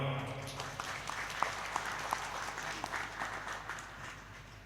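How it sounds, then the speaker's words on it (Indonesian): A hall full of people applauds steadily at a university graduation ceremony, a dense wash of clapping with a few sharper claps standing out. "Tepuk tangan dong."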